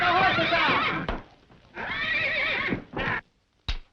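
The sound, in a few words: horses neighing as they are led from a burning stable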